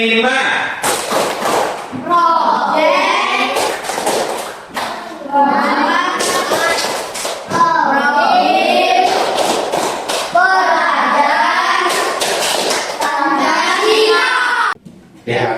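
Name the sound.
class clapping the Tepuk P5 clap routine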